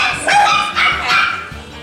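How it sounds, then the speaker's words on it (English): Several dogs bark and yip repeatedly in a large dog yard, close and fairly loud, in short bursts of overlapping barks. "we have dogs here too, we have them in the background"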